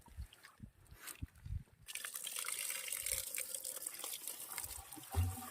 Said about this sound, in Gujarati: અને પાણી આવવા દઈ સાફ કરી નાખો